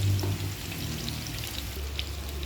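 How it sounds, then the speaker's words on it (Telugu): Sliced onions and bitter gourd fry in a pan, giving a steady, moderately loud sizzling hiss with scattered small pops throughout and no voices. "ఇప్పుడు ఉల్లిపాయలు వేసుకున్నాం."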